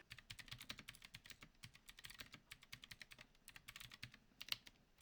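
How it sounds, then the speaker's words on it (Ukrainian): Rapid, loud clacking of a computer keyboard being typed on continuously, with dense overlapping keystrokes close up and no talking. "Для порівняння ось так звучить гучна клавіатура."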